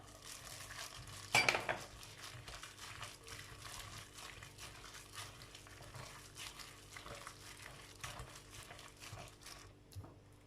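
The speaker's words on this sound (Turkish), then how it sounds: "Şekerin erimesini sağlıyorum ve tereyağıyla birleşmesini sağlamış oluyorum bu karıştırma işleminde" Sugar and butter stirred together in a bowl for ginger cookies, a steady quiet scraping and clinking of a utensil against the bowl, with one brief louder clatter near the start.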